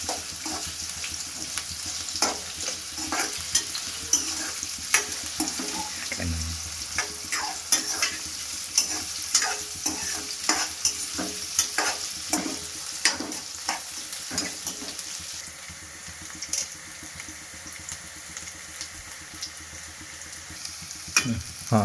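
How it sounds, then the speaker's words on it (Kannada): Two chopped onions fry in a pan until golden, a continuous close sizzle broken by frequent rhythmic scrapes and clicks of a stirring spoon, with no one speaking. "2 ಹೆಚ್ಚಿಟ್ಕೊಂಡಿರೋ ಈರುಳ್ಳಿ ಗೋಲ್ಡ್ ಕಲರ್ ತಿರುಗೋವರೆಗೂ ಸ್ವಲ್ಪ ನಾವು ಬೇಯಿಸ್ಕೋಬೇಕಾಗ್ತದೆ"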